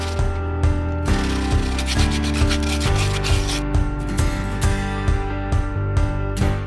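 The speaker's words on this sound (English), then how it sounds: "You can use a piece of sandpaper to help smooth out the inside of the two halves." Sandpaper smoothing the inside of a 3D-printed plastic BB-8 robot body half, close rhythmic rubbing strokes repeating steadily and loudly over a background hum, no voices.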